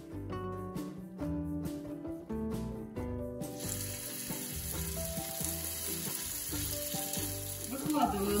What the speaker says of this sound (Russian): Выкладываю на сковородку не толстым слоем в виде таких лохматых оладушек.